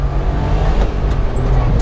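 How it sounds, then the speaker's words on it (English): A small mini truck on a flat-out top-speed run, giving a steady, close engine drone with road and wind noise over a couple of seconds. "Top speed run on a mini truck."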